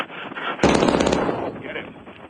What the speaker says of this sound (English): We've heard gunshots.